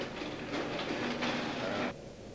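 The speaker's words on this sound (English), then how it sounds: "90 railroad cars are loaded, each carrying 90 tons of ore." Railroad cars at an iron ore mine are loaded by machines, heard as a steady, close rumbling hiss with a faint tonal whine and rattling bursts of pouring ore that stop abruptly near the end.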